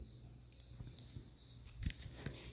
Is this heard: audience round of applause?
no